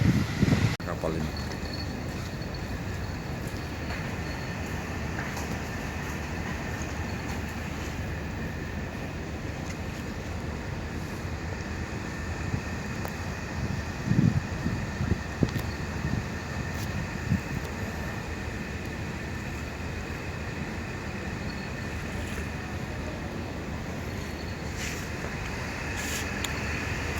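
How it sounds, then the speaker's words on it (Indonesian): Ferry maneuvering to dock at the far pier of Bakauheni port, heard from on board as a steady, heavy low engine rumble and hull drone with faint occasional knocks, and brief voices now and then. "Kapal sedang manuver mau nyandar ini di dermaga paling ujung."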